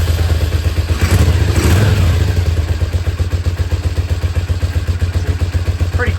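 1983 Honda GL650 motorcycle with stock exhaust idling close by, a loud, even low thrumming pulse with a brief rev swell early on before settling back to a steady rhythmic idle, no speech.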